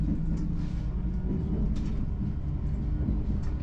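An LTG Link train leaving on its run to Kaunas, heard as a steady, close low rumble and hum of the moving train, with faint higher rattles and squeaks throughout.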